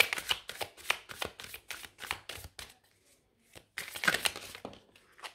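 Tarot cards being shuffled by hand: a rapid, crisp run of riffling flicks, a brief pause, then another quick burst of shuffling, close and fairly quiet.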